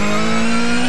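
Race car engine screaming at a steady high pitch on the Nürburgring Nordschleife in a racing video game, loud and close throughout with no talk.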